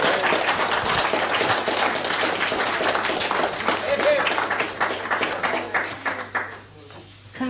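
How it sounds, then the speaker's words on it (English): A crowd applauds Rita and Tommy Verdon at a 1985 parish music night, with dense sustained clapping close by that thins out and tapers near the end. "Let's give them a big round of applause."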